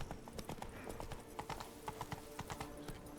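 Roach the horse's hooves clip-clop steadily in The Witcher 3 video game, a brisk, regular run of close, crisp hoof strikes continuing throughout.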